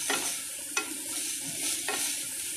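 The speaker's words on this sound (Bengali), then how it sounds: "আমি একটু ভেজে নেব পেঁয়াজটাকে অল্প হালকা করে" Onion and capsicum sizzle in a pan while a spatula stirs them for homemade chilli chicken, steady frying hiss broken by three scraping stirs, with no talking.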